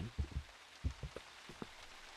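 Steady rain in the Silent Hill video game, a soft continuous hiss with scattered low, dull patters, quiet and without voices.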